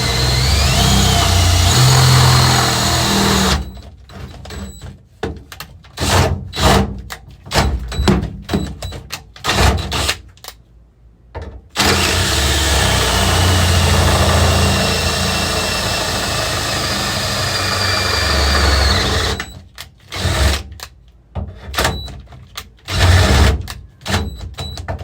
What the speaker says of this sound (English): All right, we're making holes.